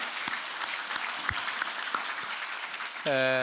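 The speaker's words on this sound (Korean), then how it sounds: "우리 주님께 영광의 박수 올리겠습니다" A church congregation applauds at an Easter service, a steady spread of clapping across the room that is moderately quiet, with a few sharper claps standing out, before a voice cuts in at the end.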